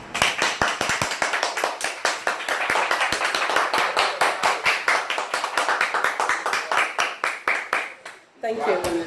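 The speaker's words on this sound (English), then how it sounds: "a round of applause for the Emekuku people" A crowd claps in a fast, sharp, fairly regular rhythm for the Emekuku people, loud and close, stopping abruptly near the end as a voice starts.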